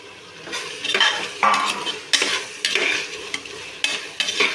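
Beans and carrots for veg biryani stirred in a hot pan, a spatula scraping and knocking the pan in repeated strokes over a steady sizzle, close and loud.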